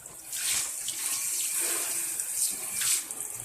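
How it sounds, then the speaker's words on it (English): Kitchen sink rinsed out with a handheld sprayer, a soft hissing spray of water in two or three bursts, close by and fairly quiet. "and I just rinse out the sink."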